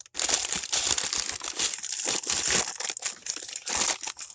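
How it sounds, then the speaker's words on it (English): Packing paper crumpled by hand up close, a loud, continuous crinkling and crushing with short pauses between bunches of scrunching, no voices. "I have this packing paper."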